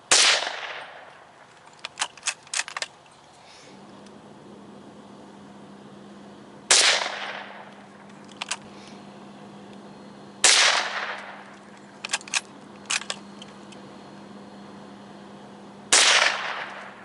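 A Marlin 782 .22 Magnum rifle fires four loud, sharp shots several seconds apart, each trailing a decaying echo, with small metallic clicks and clanks between shots.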